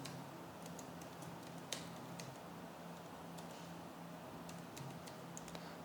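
Someone types a name into an online form on a computer keyboard, producing faint, scattered key clicks in small irregular clusters over a quiet background hum.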